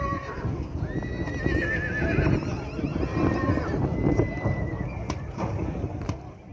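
A four-year-old grain-fed young stallion whinnies at a busy Kyzylorda livestock market, its neigh rising over dense crowd chatter, hoof clops and general bustle, with other animal calls scattered through.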